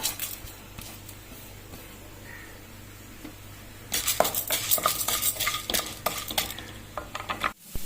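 Chana dal, urad dal, pepper and cumin roast in sesame oil in a pan. A faint sizzle comes first, then a utensil stirs and scrapes busily against the pan, close up with no speech.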